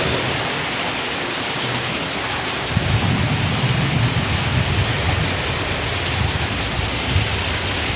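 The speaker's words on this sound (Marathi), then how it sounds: "पावसाला बघा कसली जोरदार सुरुवात झाली एकदम" Steady, heavy rain roars continuously, a dense wash of noise that thickens slightly after the first few seconds, with no voices.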